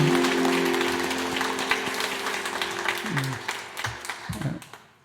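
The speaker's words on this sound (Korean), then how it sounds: "우리 함께 축복의 박수 부탁합니다." Church congregation clapping during a Sunday worship service, a full burst of applause that tapers off toward the end, with sustained tones and brief voices mixed in.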